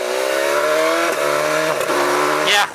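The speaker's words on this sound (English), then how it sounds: "you can feel it buck a little bit when you use the quick shifter. But I think if you go, let's go downshift" A BMW S1000XR motorcycle downshifts through its quick shifter, a loud, near engine tone that steps in pitch at two quick shift points with brief blips, then surges briefly before easing.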